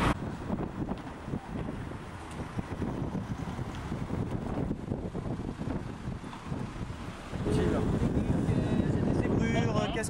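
Wind buffets a microphone on a bridge during an outdoor film shoot, blustery rumbling gusts that strengthen toward the end, with people talking faintly in French.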